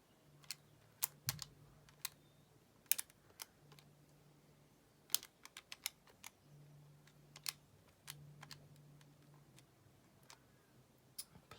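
Calculator keys are pressed in a sequence while a differentiation problem with logs is entered, producing faint, sharp, isolated taps spaced irregularly over a quiet background, with no speech.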